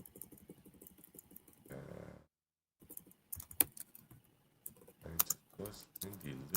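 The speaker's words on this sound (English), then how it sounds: "I can definitely hear you typing there." Keys clacking on a computer keyboard during a live stream test, in short irregular bursts broken by brief pauses, fairly close, with some voice-like murmur in the background.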